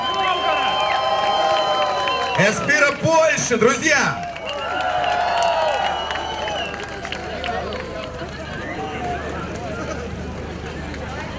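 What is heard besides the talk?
audience applause at an award ceremony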